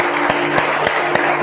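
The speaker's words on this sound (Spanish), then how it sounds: "Denle un aplauso al Señor." Applause for the Lord from a church congregation, a dense steady wash of clapping with a few sharper accents, loud and close.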